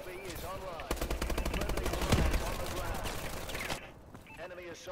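Rapid automatic gunfire from the Obsidian Steed rifle in a team deathmatch shooter game, a dense sustained burst of shots lasting several seconds before cutting off, with a player's commentary voice beneath.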